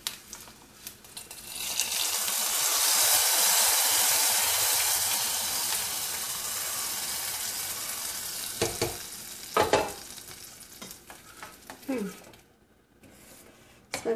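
Hot tempering poured into a spinach and tomato dal, erupting into a loud steady sizzle that hisses on for several seconds and then fades, followed by clinks of utensils.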